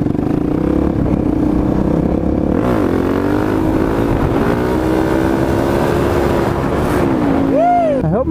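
A supermoto motorcycle engine drones and revs up during a wheelie, heard from the rider's helmet with heavy wind buffeting, pitch rising and dipping before a final sharp rev.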